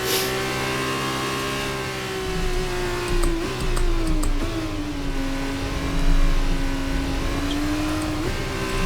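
An F2 race car howls around the Abu Dhabi circuit in F1 23, its engine holding a steady high-revving tone with brief dips and rises at gear changes, loud and continuous throughout.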